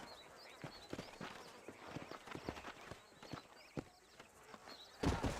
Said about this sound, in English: some horses have been spotted somewhere outside of Armadillo